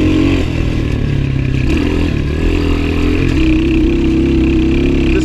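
A worn Gio X31 250cc dirt bike runs on a forest trail, its engine droning loud and near with rattling clatter and shifting revs, and no voices.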